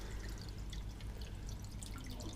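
Water drains from a Fluval Edge 22L aquarium as its level is lowered, giving a faint, steady trickle and drip over low background hum with no talking.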